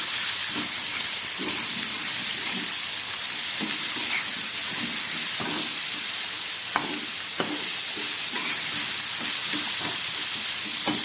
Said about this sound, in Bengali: এই তেলের মধ্যে আমি দিয়ে দিচ্ছি পেঁয়াজ আর ক্যাপসিকাম সব একসঙ্গেই ভেজে নেব